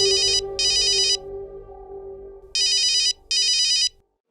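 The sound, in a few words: phone ringtone, incoming call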